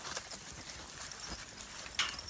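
Big farm horses walking through a gate, quiet hoof clip-clops on the ground with soft shuffling, faint and irregular against outdoor background noise.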